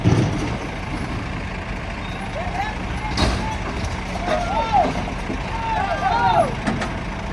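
A Scania truck hauling a heavy load rumbles and strains nearby, with a sharp air burst and whining tones over a steady engine drone while someone talks.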